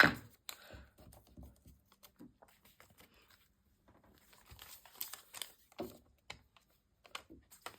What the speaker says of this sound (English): I do have some regular craft paper, which I think will do just fine. So we're gonna rip that up